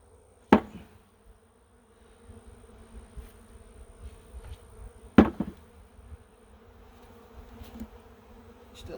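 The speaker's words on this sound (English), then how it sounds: "So let's dump these bees in here and be done with this." Bees are dumped into a top-bar hive, giving a persistent low buzzing hum, with two sharp knocks of the box against the wood and faint rustles between them.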